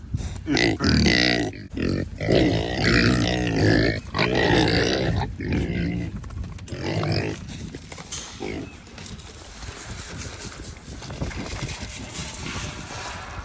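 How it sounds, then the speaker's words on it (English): Several pigs grunting and squealing loudly up close in bursts, the noise thinning out toward the end. "Some noisy pigs. Noisy pigs."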